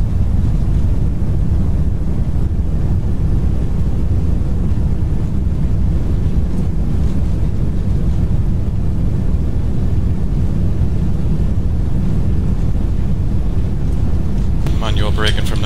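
Airbus A380 engines at idle reverse thrust just after landing in the FSX flight simulator: a steady, dense low roar fills the whole stretch, with a brief higher tonal chirp right at the end.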